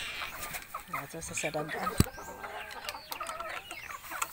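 Native hens on a chicken farm cluck in soft, irregular bursts nearby, mixed with other birds and a sharp knock, while people talk over them.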